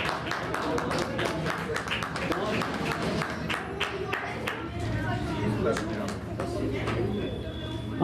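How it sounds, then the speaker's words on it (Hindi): At a girls' chess championship, an audience gives a burst of scattered clapping for the youngest player, mixed with crowd chatter and a host speaking over it. "जोरदार तालियां बजा दें, जल्दी आइए बेटा।"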